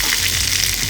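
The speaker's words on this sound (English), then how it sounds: "And when it sizzles and sizzles and sizzles and sizzles" Tadka of curry leaves sputtering in hot oil for Punjabi kadhi pakora, a loud dense crackling sizzle filling the whole moment, close and unbroken with no voices.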